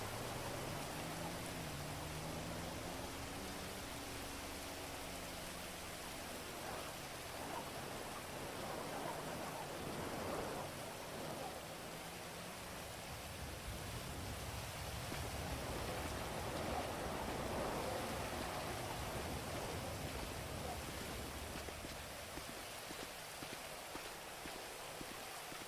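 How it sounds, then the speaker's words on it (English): Steady rain falls in a video game world, a faint, continuous hiss of drops with occasional soft patters and no voices. "You never see it rain on these servers."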